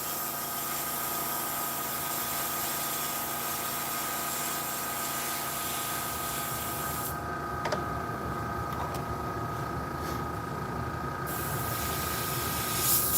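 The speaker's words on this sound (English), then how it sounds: "Always an adventure airbrushing." An airbrush sprays paint thinned about half and half with thinner, giving a steady, close hiss that runs unbroken under a faint mechanical tick.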